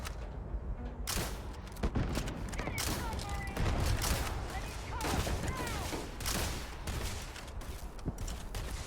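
Grenade launcher in Starfield firing amid a busy firefight, with repeated bursts and crackling impacts over dense combat noise lasting several seconds.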